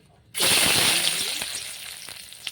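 Hot oil sizzles in a pan while cooking a Bengali fish curry with ridge gourd and potatoes, erupting suddenly into a loud, steady crackling hiss that eases slightly but continues throughout.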